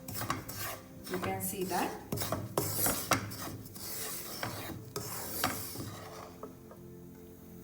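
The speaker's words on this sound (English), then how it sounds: "Keep stirring the rava on a consistent manner because we want the rawness to be removed." Rava (semolina) roasting in ghee in a pan, stirred steadily with a spoon: continuous gritty scraping and rasping close up, with a few brief words spoken.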